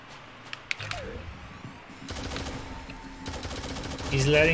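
Gunfire and weapon mechanics during a Shadowgun Legends duel, a couple of sharp clicks early, then sustained bursts of rapid shots in two stretches, with game effects layered in.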